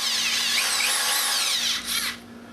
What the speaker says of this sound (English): we get our cake mixer out, and we're just going to stick it in the drill.